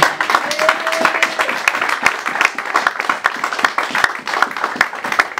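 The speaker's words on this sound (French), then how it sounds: "Est-ce que tu peux acclamer Jésus?" A French-speaking church congregation applauds and cheers for Jesus, with dense, loud clapping running steadily throughout and brief raised voices mixed in.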